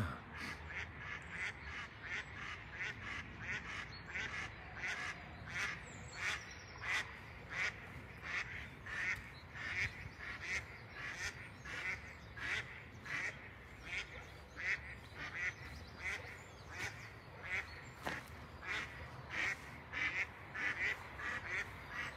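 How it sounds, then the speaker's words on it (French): Ducks in a park pond quack steadily and repeatedly, a busy chorus of overlapping calls at moderate distance over a constant outdoor background hiss. "Il y a beaucoup de canards."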